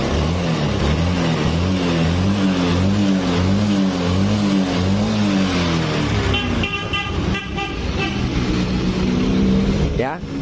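A carbureted Honda Beat scooter engine runs near the listener with a rough, wavering hum that later shifts to a busier rattle, while someone talks over it.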